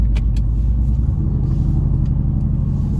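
A Mercedes-AMG GT engine running in sport mode gives a loud, steady deep rumble up close, with a couple of faint higher clicks near the start.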